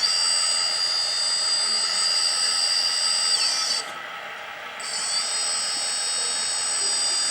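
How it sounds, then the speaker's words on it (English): A 1/14-scale metal RC hydraulic mobile crane truck, a three-axle all-terrain model, raises its chassis with a steady high-pitched pump whine that briefly dips and drops in pitch partway through before resuming, close up with no talk. "Drop it, because we also have hydraulic chassis rising function."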